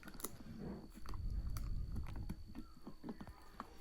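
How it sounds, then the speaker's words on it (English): A dog chews on a toy while lying down nearby, giving irregular crunching bites and gnawing clicks at close range. "he's laying down, he's chewing on it"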